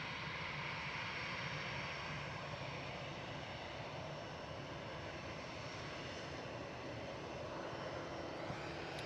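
Iberia Airbus A320 Classic, registration EC-MUK, departing Manchester Airport for Madrid, its engines a sustained distant roar that stays steady and fairly faint throughout.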